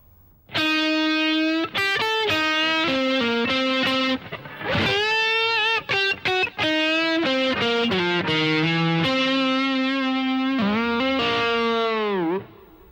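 Distorted electric blues guitar phrase in the Mixolydian mode, a run of sustained notes with string bends and slides, loud and close, played alone.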